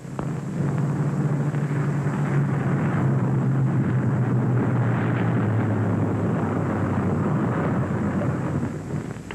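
A B-17 bomber coming in to land with one engine dead, a loud, steady droning roar of propeller engines swelling and holding, heard on its own without talk.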